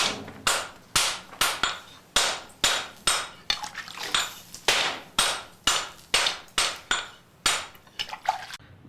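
A blacksmith's hammer strikes steel during forging, about twenty sharp, loud, ringing blows in an uneven rhythm, each decaying quickly, with some wet spatter from water used on the hammer.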